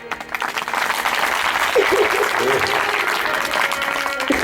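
Audience clapping fills a devotional kirtan at a Shree Ram Katha gathering: dense, continuous applause at steady loudness throughout, with faint voices and tonal sounds underneath.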